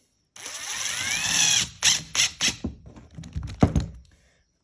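3-inch screws driven with a drill into a hole saw cut-out stuck in the saw: a long whirring drive, then a string of short bursts and thunks, close and loud.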